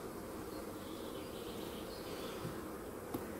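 Honeybees buzz steadily around an open hive full of brood and honey, a continuous insect drone with no talk over it.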